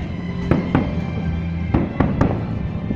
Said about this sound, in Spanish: Los fuegos artificiales.